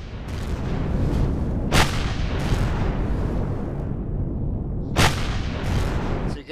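Gunfire and explosions in the space survival game Empyrion - Galactic Survival rumble continuously, with two sharp, loud blasts standing out over a dense, booming battle din.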